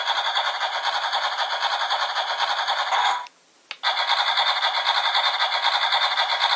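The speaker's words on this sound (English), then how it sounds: "The second button is actually for the tank driving noise." Electronic driving sound from a 1:18 scale M1A2 battle tank toy, a loud steady rumbling clatter that cuts out for about half a second midway, then resumes.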